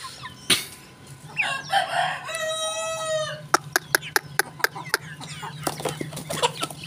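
A young Bangkok fighting rooster gives one drawn-out, wavering crow midway, surrounded by sharp clucks and a quick burst of rhythmic flapping or pecking taps, fairly close and with no talking.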